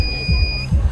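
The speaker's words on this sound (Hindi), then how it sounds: "अगर चोर आ गया तो ये बजर बजने लगेगा, आपको अलर्ट कर देगा कि आपके घर में चोर आ गया है।" Buzzer of a laser security alarm built by students for a school science exhibition, sounding as a steady high electronic tone that cuts off partway through, with low room rumble and murmuring underneath.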